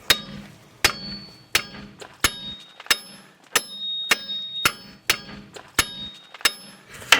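Hammer blows strike wheel spacers on an off-road vehicle build, about ten sharp metallic hits at a steady, roughly once-per-second rhythm, loud and close, each with a short ringing clang.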